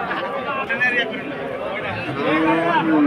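A cow moos in low, drawn-out calls amid a busy crowd of people talking and chattering nearby at a cattle market.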